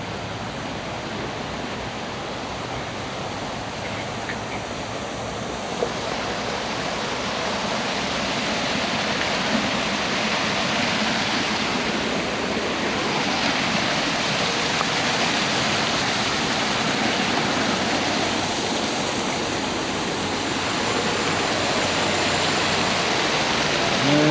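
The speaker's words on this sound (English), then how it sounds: "So I think this is like the start of like a mini waterfall." Continuous rushing of a small waterfall at the outflow of a pond in Sochi Botanical Gardens, steady and close, a dense hiss of falling water with no breaks.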